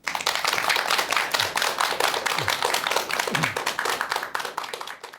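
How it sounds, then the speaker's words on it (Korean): A lecture audience breaks into applause, many hands clapping loudly and continuously for several seconds before the clapping thins and fades at the end. "여러분 큰 박수 부탁드립니다."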